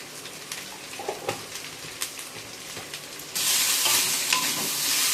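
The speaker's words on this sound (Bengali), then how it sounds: "হলুদটা দিয়ে সামান্য নাড়াচাড়া করে" Turmeric stirred into shukto vegetables frying in a pan, a steady close sizzle with scraping stirs, the frying hiss swelling louder and brighter partway through.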